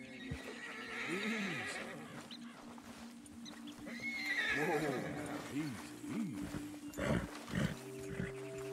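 A horse in Red Dead Redemption 2 whinnies repeatedly with loud, shrill neighs and snorts, mixed with hoofbeats and other game sounds, while a voice speaks calmly over it.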